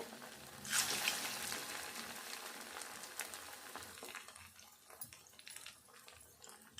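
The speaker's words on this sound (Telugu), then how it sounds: "నూనె వేడైనాక చిన్నగా బోండాలు వేసుకోవాలి" Poha bondas hit hot oil in a kadai and start frying, a loud sizzling hiss at first that settles into a steady softer bubbling with faint crackles.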